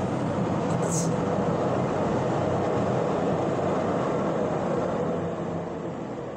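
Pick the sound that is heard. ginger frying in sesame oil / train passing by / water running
train passing by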